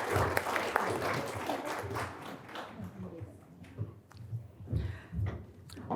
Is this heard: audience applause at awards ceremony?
yes